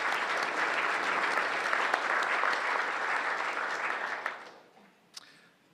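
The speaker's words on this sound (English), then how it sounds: "please join me in giving her a warm round of applause to welcome her back with us" Warm audience applause at a City Club civic leadership event on the electric power industry, a dense, even roar of clapping that holds steady for several seconds, then thins and fades out with a few last claps.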